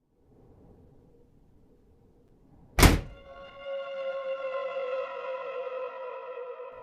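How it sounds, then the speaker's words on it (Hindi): A door in a supposedly haunted house swings shut on its own with a single loud thunk after a quiet stretch, then a sustained eerie ringing tone lingers behind it. "दरवाजा अपने आप बंद हुआ।"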